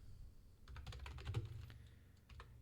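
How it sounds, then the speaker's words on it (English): Rapid clattering keystrokes on a computer keyboard in the background of an office phone line, a steady run of light taps with a short pause near the end, faint and slightly muffled. "And you hear typing in the back."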